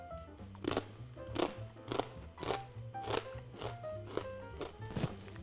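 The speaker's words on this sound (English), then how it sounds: "Huge crunch" Rye crackers from an Utz pub mix are crunched and chewed up close, with steady, rhythmic bites and crackles recurring about every half second, moderately loud and with no voices.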